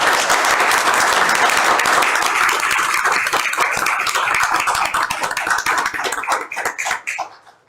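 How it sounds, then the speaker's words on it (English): Polite applause from the audience at a small-town city council meeting, a steady, even clatter of many hands that holds for several seconds and then thins out and fades. "Golf clap."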